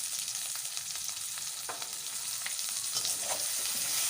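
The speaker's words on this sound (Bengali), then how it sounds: "এবারে ভালো করে ভেজে নিচ্ছি।" Shredded cabbage fries in a pan with salt and turmeric, giving a steady soft sizzle with occasional stirring scrapes, fairly quiet and with no talking.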